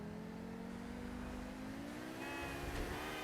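The Overflod Imorgon electric car in GTA Online accelerates with a faint, steady rising whir, a thin electric whine climbing in pitch over a soft hum with almost no engine noise.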